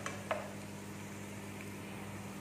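Chopped garlic frying in a pan until brown, a soft steady sizzle with a couple of light utensil clicks against the pan near the start, quiet over a faint background hum.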